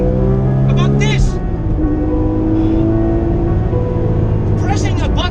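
A Porsche GT3 RS with a manual gearbox, its engine droning steadily up close as the revs rise and fall through heel-and-toe downshifts.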